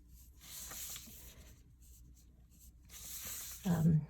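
Pencil sketching many small lines around a circle on paper, soft bursts of scratchy strokes separated by pauses, close and faint, ending with a brief louder rustle.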